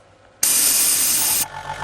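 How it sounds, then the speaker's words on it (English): An OPHIR AC006 airbrush blasts out cleaning fluid in one loud, steady hiss lasting about a second, then cuts off abruptly into quiet. "I spray it out."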